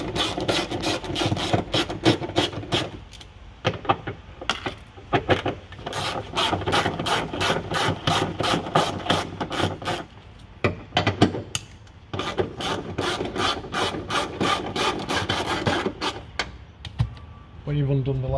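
A 10mm nut is being undone on the rear wiper motor of a VW Tiguan Mk2, giving a long run of rapid, close ratchet clicks with short pauses and a few metallic knocks in between.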